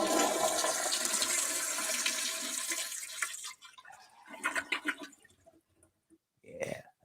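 A toilet flushes with a loud rushing gush that drains away, followed by gurgles and trickling refill water, brief speech heard near the end.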